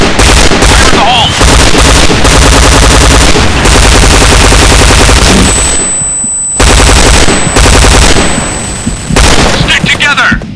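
Video game weapon sound effects, with loud continuous automatic gunfire and heavy overlapping shots that fill the whole stretch, broken only by a brief gap midway.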